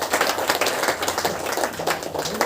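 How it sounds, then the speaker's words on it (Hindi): A church congregation at a Saturday prayer meeting claps together in thanks, a dense, steady wash of applause lasting throughout without pause. "ताली बजाकर धन्यवाद।"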